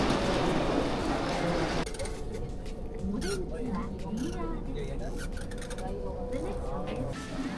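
A train on the line to Saga Station in Kyoto moves along the rails with squealing, rubbing metal and clatter, a steady rumble underneath, after a louder burst of noise at the start.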